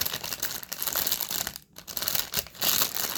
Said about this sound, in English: sorry for the crackling noise